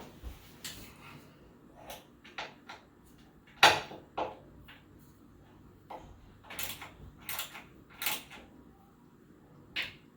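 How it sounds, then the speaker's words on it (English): A ratchet drives bolts tight while an L-shaped gamer desk is assembled, giving scattered creaking and clicking bursts with short pauses, near and fairly quiet in a still room. "I tighten so it fits nicely on the back of these bits, so I can ratchet those tight."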